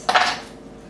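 A kitchen knife cuts through a peeled onion on a board for green salsa, making one short, close, crisp knock that fades quickly, with no voices.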